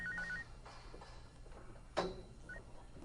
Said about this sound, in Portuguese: quando seu celular tocou